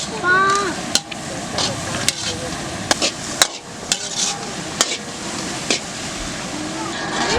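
Carrots being stirred into a 10 kg batch of homemade veg noodles, with repeated sharp metal scrapes and knocks of a ladle against a large pan over steady frying noise, while people talk nearby.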